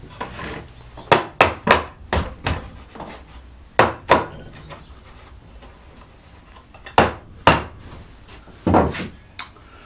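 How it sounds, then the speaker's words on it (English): Gouge and mallet carving a wooden floral panel, defining leaf tips: sharp wooden knocks land in quick clusters of two to four, with pauses and faint scraping between. "I use a gouge to define the tips of these leaves."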